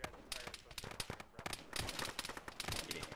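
Bursts of gunfire in the military shooter game Arma, sharp cracks and short rapid volleys clustered throughout, fairly distant and faint, with no voices standing out.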